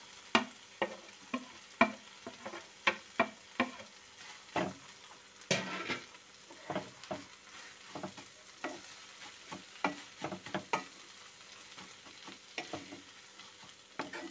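Chopped capsicum fries in a pan with a soft sizzle, and a spoon scrapes and stirs it in irregular clattering strokes, close and fairly quiet, for the whole stretch with no talking.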